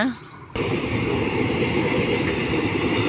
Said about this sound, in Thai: อู้รถไฟมา